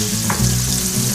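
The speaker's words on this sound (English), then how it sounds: "This is new oil, so it may not be as golden brown as I like to see them. But so there we are. Now we're frying." Food deep frying in new oil, a dense, even sizzle and bubbling that holds steady and loud throughout with no voices.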